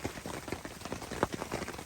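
Rain falls on a hot tent, a Nature Hike Ranch Fire 10x10, making a dense, steady patter of drops on the fabric with no voices.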